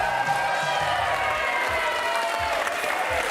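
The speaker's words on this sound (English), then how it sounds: "Keep the applause" Steady applause from a crowd, dense continuous clapping that stays at an even level throughout, with faint cheering mixed in.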